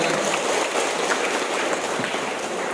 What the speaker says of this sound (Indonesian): Tepuk tangan untuk PT Puyen Indonesia.